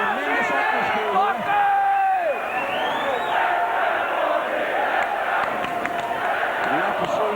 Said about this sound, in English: we've got a capacity crowd here for Dandenong basketball